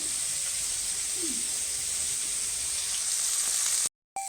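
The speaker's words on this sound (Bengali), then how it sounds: "চিংড়ি মাছগুলো আমার ভাজা হয়ে গেছে আমি তুলে নিচ্ছি" Prawns frying in oil hiss with a close, even sizzle and fine crackling for a few seconds before cutting off abruptly.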